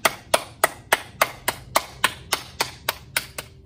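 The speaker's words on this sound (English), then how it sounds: "Back to our clap." Children clap their hands in unison as a storm sound effect in a kids' church lesson, about eleven sharp, evenly spaced claps over a few seconds, close and fairly loud, slightly loosening in timing toward the end.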